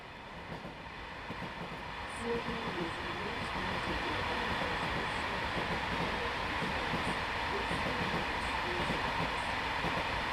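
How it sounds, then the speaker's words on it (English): Modded Class 165 diesel unit in Train Sim World 5 rolling past, a steady rumbling roar of wheels and engine that swells after a couple of seconds and holds, with faint rhythmic clicks over the top. "That was a Palomino. It's your 165 sound modded."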